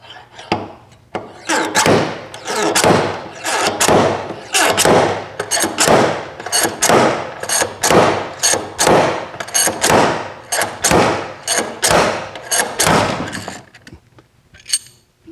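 A slide hammer pulls a door hinge out of a 1973 Super Beetle. Over about fifteen seconds it lands a long run of sharp, loud metallic thuds in a steady rhythm, heard up close, with a short pause near the end.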